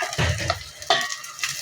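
Rice for paneer rice is stirred in a hot pan, giving two or three quick scraping, sizzling sweeps up close with short pauses between them and no voices.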